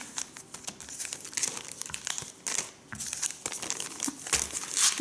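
Crinkly foil wrapper of a Japanese Pokémon card pack being torn open and crumpled up close, with continuous crackling and rustling bursts.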